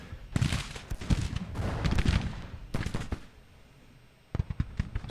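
Cannon and artillery fire in a Civil War strategy video game, bursts of booming reports and rolling volleys close together, then a lull before a final cluster of sharp shots.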